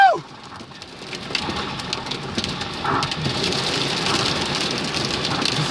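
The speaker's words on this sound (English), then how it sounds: "Very heavy downpour." A very heavy rain downpour hammers down in a hailstorm core near Hermosa, a loud continuous hiss of water on surfaces filling the scene with no letup.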